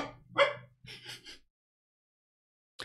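An excited pet dog barks and yelps eagerly over a game of ball, a few sharp close bursts in the first second and a half, then silence and a brief final yip.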